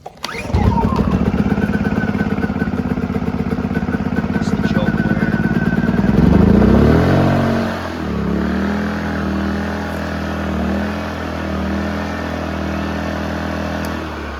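A WEN 2350 inverter generator runs loud and close with a steady engine hum, then audibly drops its speed and level partway through as it switches to eco mode, settling into a quieter, lower drone.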